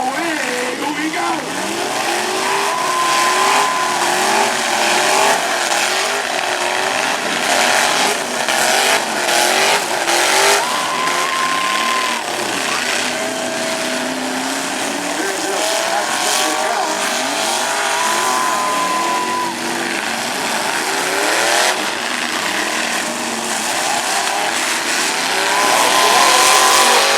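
Derby trucks at a Coldwater event rev and race continuously, engines roaring with rising and falling pitch and occasional tire squeal, while an announcer talks over the din.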